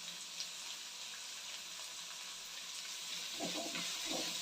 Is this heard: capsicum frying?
yes